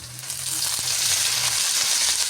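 Green chilli, onion, ginger and garlic sauté in a hot pan for a vegetable pasta, giving off a steady, close sizzle with a faint stirring scrape underneath and no talking.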